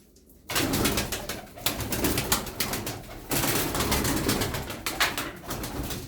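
Tumbler pigeons cooing in a loft, a continuous close chorus of throaty rolling coos from several birds, loud and steady with no talking.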